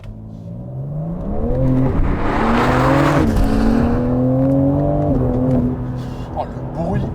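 BMW M4 CSL engine and exhaust pulling hard, a deep rising and falling growl with a loud sustained roar in the middle, close-up, with a person's speech mixed in.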